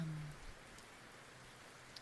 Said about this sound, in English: I'll mute and just listen to the rain.